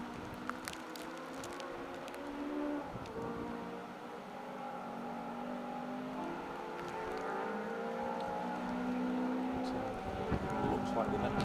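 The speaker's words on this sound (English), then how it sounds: "there's certainly noises of rally cars echoing across the valley" Rally cars echo across a valley at a stage rally, their engines revving and droning in the distance in a steady, faint, layered hum, with people talking over it.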